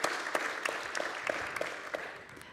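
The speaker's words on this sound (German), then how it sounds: "ich habe schon gehört, einiges an Applaus" Audience applause at a panel debate, a steady patter of clapping from a crowd heard at a moderate distance, continuous throughout with a few sharper individual claps standing out.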